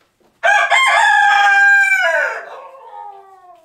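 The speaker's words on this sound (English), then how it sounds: "Let's see who can crow the loudest." A single loud, close crow from a light Sussex chicken on a farm rises sharply, holds strongly for about two seconds, then trails off in a fading, wavering tail with nothing else heard.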